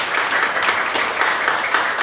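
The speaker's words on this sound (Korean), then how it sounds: "저 긴 시간 동안 좋은 말씀해주신 우리 김학규 부당위원장님께 큰 박수 부탁드리겠습니다" An audience at a youth politics lecture gives steady applause, moderately loud and even throughout the short stretch.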